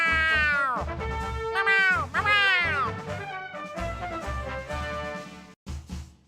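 In a SpongeBob video game, a character's voice imitates a cat with a string of loud, drawn-out, exaggerated meows, one after another, close and prominent.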